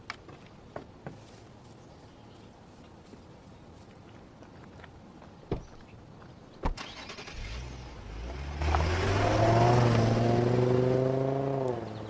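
A few scattered clicks and thumps, then a car engine starts up and revs hard, rising in pitch as it accelerates away, loud and close.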